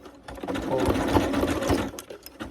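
Sewing machine stitching a fabric strap, a steady close mechanical whir with rapid needle ticking running continuously, easing slightly near the end.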